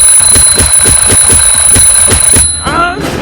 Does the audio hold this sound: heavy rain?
no